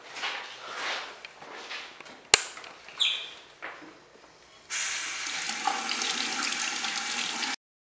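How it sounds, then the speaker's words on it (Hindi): Tap water gushing into a plastic displacement bag, preceded by quiet handling clatter and one sharp knock, then a loud steady rush of running water for about three seconds before it stops abruptly. "इहदे च पानी भरना शुरू कर देना है"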